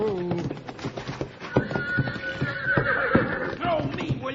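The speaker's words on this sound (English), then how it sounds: "He's got that horse so spooked up it doesn't know what it's doing." A spooked horse whinnies shrilly amid stamping hooves and scuffling, with agitated voices mixed in close by.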